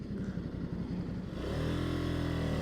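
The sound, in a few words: Ducati Scrambler Sixty2 motorcycle engine revving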